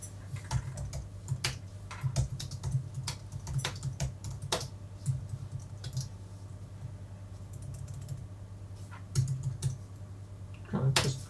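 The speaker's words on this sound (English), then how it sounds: "I'm gonna type in here." Computer keyboard typing during a live color-grading session, steady irregular key clicks with occasional louder taps over a constant low electrical hum, close and moderately quiet.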